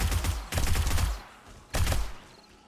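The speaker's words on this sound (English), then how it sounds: "The rate of fire on this SMG5 is incredible" Two rapid bursts of automatic fire from an SMG5 submachine gun in the zombie survival game 7 Days to Die, the first running over a second, the second shorter, loud and close with a brief pause between.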